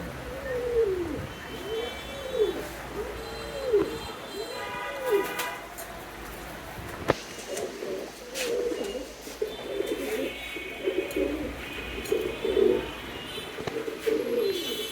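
Domestic pigeons in a loft coo while feeding, repeated soft throaty rolling calls from several birds close by, overlapping in loose rhythm, with a few sharp clicks and rustles between them.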